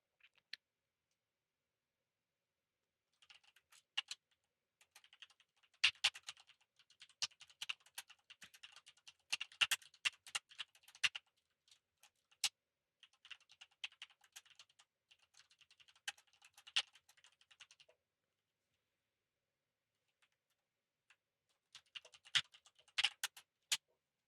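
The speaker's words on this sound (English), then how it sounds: "I'm typing one more message to Agari before we continue." Rapid typing on a computer keyboard, quiet and close, in bursts of clicking keystrokes separated by short pauses, with no voices.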